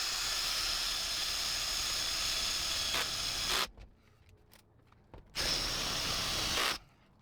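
A power drill grinds loudly and steadily as it bores into a Sprinter van's metal roof, stops briefly to near silence with a few light clicks, then whines again at full strength.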